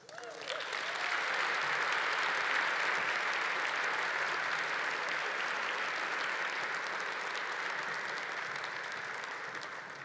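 Sustained applause from a luncheon audience at an awards event honoring accomplished women, a broad steady wash of clapping that swells quickly and holds evenly for about ten seconds, heard alone without talk.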